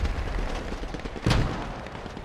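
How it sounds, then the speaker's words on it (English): A single heavy mortar impact booms out in a World War II shooter match, landing over a steady rumble of distant battle noise with no voices. "Again, we see mortars on the cap"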